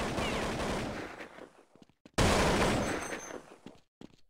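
Counter-Strike gunfire during a competitive match on de_train: two dense bursts of rapid shots, close and loud, separated by a brief near-silent gap, with no talking.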